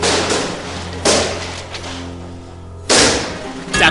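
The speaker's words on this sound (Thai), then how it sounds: "แต่กลายเป็นการระเบิดถึง 4 ครั้ง" Firecrackers set off to topple a brick tower burst in a sharp sequence, several loud cracks spaced about a second apart with debris clatter between them, recorded close.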